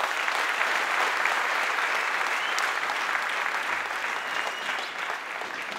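A large crowd at an opposition political rally applauds steadily and loudly, a dense wash of clapping that holds throughout and eases only slightly near the end.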